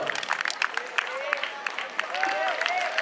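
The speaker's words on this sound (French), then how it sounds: "On a un de nos amis Andy qui arrive, vous pouvez l'applaudir aussi" A crowd applauds runners arriving at the finish of a 10 km race in Balma, with scattered clapping and cheers under an announcer speaking over a loudspeaker.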